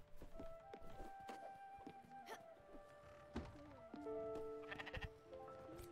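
Sheep in the video game Spiritfarer bleat several times over steady game music tones, with soft thuds and footstep-like taps mixed in.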